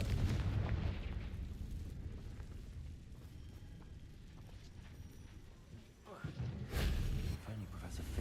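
A Confringo fire spell in Hogwarts Legacy erupts in deep, rumbling explosive booms, heavy at the start and again near the end, with a low roar in between and voices beneath.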